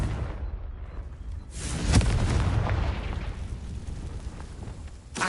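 A Confringo blasting spell going off in Hogwarts Legacy, a deep booming explosion that bursts in near and loud, then rolls and rumbles for a few seconds before a second smaller burst at the end.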